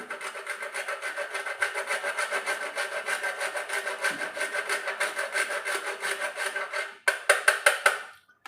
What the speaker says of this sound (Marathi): ह्याच्यात जायफळ आणि विलायची टाकते या पाकामध्ये थोडंसं जायफळ किसून टाकते